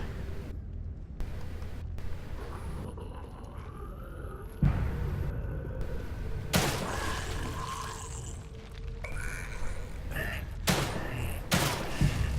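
Handgun shots ring out in The Evil Within 2 amid a loud, dense game soundscape, with sharp bangs, thuds and rumbling ambience packed together; no one talks over it.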